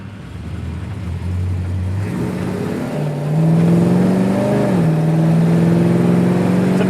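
A 1973 Plymouth Satellite engine accelerates while driving, a loud close drone rising in pitch through the gears with a steady whir alongside.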